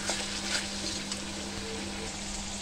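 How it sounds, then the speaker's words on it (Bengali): Onions sizzling in a frying pan at the start of a meat curry for five to seven people, a steady dense crackle and hiss throughout, close and even, with no one talking. "যাতে পেঁয়াজটা তাড়াতাড়ি আগে কুক হয়ে যায়।"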